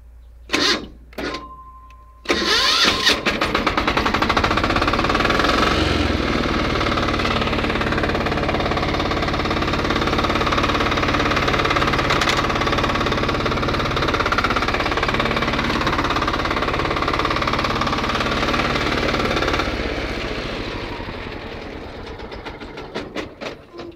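A small 4x4 articulated mini tractor engine cranks with a few sharp clatters, then catches and runs steadily at a loud, even idle for most of the time before cutting out.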